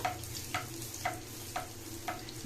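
Oil bubbles and sizzles steadily around a potato kofta ball frying, with faint soft clicks recurring about every half second.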